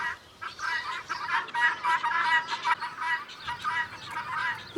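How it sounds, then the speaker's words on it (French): Guinea fowl and chickens on a poultry farm keep up a dense, rapid chorus of harsh cackling calls, loud and close, with no break in the noise. "Eh bien, on a des pintades, des poulets,"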